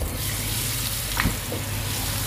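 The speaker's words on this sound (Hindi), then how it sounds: "यहाँ पर हमारा तेल ऊपर रखा था मैंने कढ़ाई में, गरम हो चुका है, चिप्स को डाल दूंगी" Potato chips slide into hot oil in a kadhai (wok) over high flame, raising a steady, close sizzle and bubbling with a brief splashy burst partway through; no talking.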